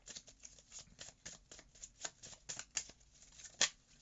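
Tarot cards being shuffled by hand for a reading, a quiet series of soft riffling bursts with a sharper snap near the end, close and with no voice.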